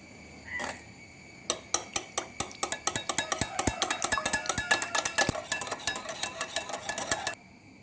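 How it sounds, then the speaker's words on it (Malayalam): Rapid whisking of egg yolks with oil, milk and salt in a bowl for a gluten-free steamed cake: a quick, steady run of sharp clinks of utensil against the bowl, close and fairly loud, after a short pause. "ഇനി എഗ് യോക്കിലേക്ക് നമ്മൾ ഓയിലും പാലും ഉപ്പുപൊടിയും കൂടെ ചേർത്ത് നന്നായിട്ടൊന്ന് മിക്സ് ചെയ്യണം."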